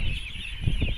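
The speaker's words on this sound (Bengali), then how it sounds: "এখানে চায়না পিকিং জাতের হাঁস, কত সুন্দর হাঁস" White Pekin ducks on a wetland farm give short honking calls while feeding, close by over a continuous hiss of background noise.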